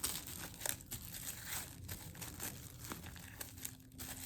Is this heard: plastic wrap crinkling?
yes